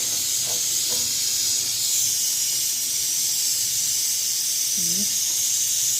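A pot of food cooking on the stove gives a steady, loud hiss of steam and sizzling that runs unbroken throughout, with a few faint background sounds underneath.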